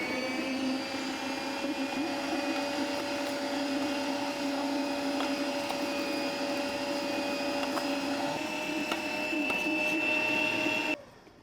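Electric food grinder steadily grinding alligator gar with onion, green onion, celery and parsley into a fine grind, a loud continuous motor whine and hum that runs unbroken, then cuts off abruptly at the end.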